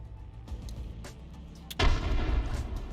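A frag grenade in Apex Legends goes off with a sudden heavy boom partway through, after faint distant gunfire; the rumble then lingers loudly to the end.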